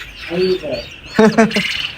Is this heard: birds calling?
yes